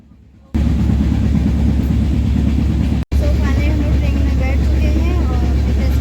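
Train carriage on a Dhanbad to Uttar Pradesh route toward Banaras, its steady low rumble and rattle filling the clip loudly after a short quiet start, with a brief dropout near the middle and faint squeals above.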